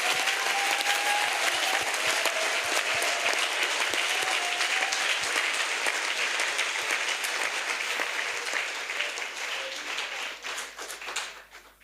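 An audience at an outdoor salvation and healing crusade in Bafoussam bursts into sustained applause, a dense wash of many hands clapping for several seconds before tapering off at the end.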